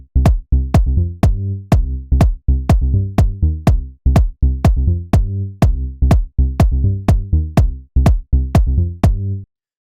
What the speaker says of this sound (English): So it's a groovy bass line that is playing the notes of a